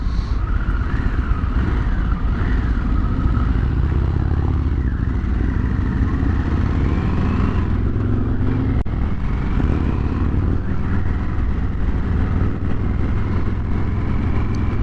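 A 2023 Harley-Davidson Sportster S cruises through the city in fifth gear, its steady engine rumble and wind noise loud and continuous throughout with no talking.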